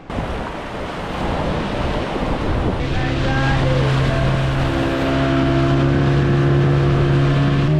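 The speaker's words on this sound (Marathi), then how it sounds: "पुरा निळा पाणी आहे ना, वेव बहुत मोठ्या मोठ्या आहे इथं" Big ocean surf roars and rushes continuously on the Konkan coast at Harihareshwar, joined partway through by a steady engine drone and wind buffeting the microphone.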